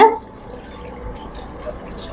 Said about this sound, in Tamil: சுடு தண்ணி இந்த கிண்ணத்துல ஊத்திட்டு